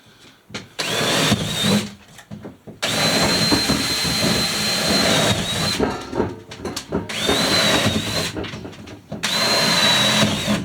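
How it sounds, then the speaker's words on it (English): A power drill whines loudly in long bursts, pausing briefly between holes drilled around for a wood stove installation, its pitch dipping slightly as it bites in. "I just drill all the way around"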